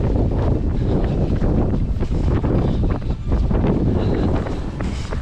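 Strong gusty wind roars loudly and continuously across the microphone outdoors during a long multi-day trek, a dense rumbling buffet with no pause.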